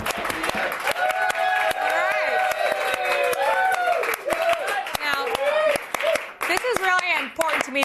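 A studio audience clapping steadily, dense rapid claps running the whole time underneath someone talking over it.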